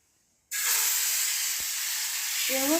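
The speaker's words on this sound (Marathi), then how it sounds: "तव्यावरती मिश्रण घालूया." Semolina crepe batter poured onto a hot, oiled tawa bursts into a loud, steady sizzling hiss that starts abruptly and holds strong, with a brief voice near the end.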